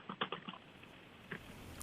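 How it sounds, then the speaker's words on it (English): Someone types away on a keyboard over a phone line during a Navy press call in San Diego, quick light clicks in short bursts, faint and thin. "whoever is on the line, please, that is typing away, could you please mute your phone"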